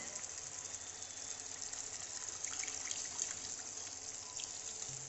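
Water pours steadily from a rinsed bowl into a cooking pot of hilsa fish curry in a home kitchen, a continuous close splashing gush that runs unbroken for the whole stretch.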